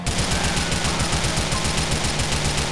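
Rapid automatic Uzi gunfire in Grand Theft Auto IV rattles continuously in a fast, even rhythm, loud and close, with a steady dense backdrop behind the shots.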